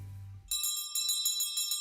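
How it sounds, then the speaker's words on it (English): A handheld bell rung repeatedly at Children's Hospital Los Angeles, bright metallic clangs in a quick steady rhythm after a short low tone, ringing clear with no talk. "this bell rings for every child who triumphs over cancer"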